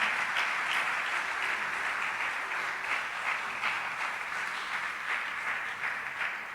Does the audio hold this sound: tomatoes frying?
no